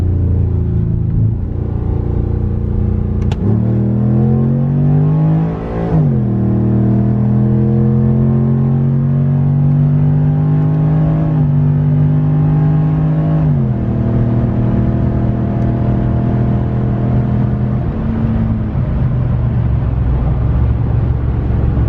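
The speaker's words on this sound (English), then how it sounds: "First time doing a 1-2 shift on this." A cammed Ram truck engine roars loud and close under wide-open throttle, its pitch climbing steadily, then dropping sharply at the 1-2 shift before rising again as the pull continues.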